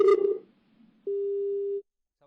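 A phone line tone as a caller's connection drops: a clean, steady electronic beep holding for under a second after a brief burst of a voice, then silence.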